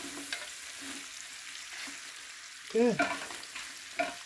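Onion and garlic fry in a pan with quiet crackling, broken by a few scraping stirs and a brief sharper clatter. One short spoken word comes near the end.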